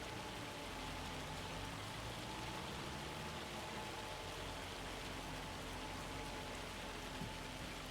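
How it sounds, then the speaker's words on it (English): Heavy rain in the farming game Farming Simulator 25 pours down in a steady, dense hiss, constant and even throughout with no voices. "Rain is getting pretty hard."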